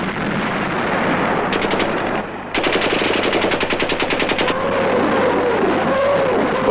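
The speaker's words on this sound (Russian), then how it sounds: "Шквал огня обрушился на врага." Heavy gunfire barrage from a WWII Belarusian offensive, with dense rapid machine-gun bursts over a loud continuous battle rumble, a brief dip, then renewed sustained firing.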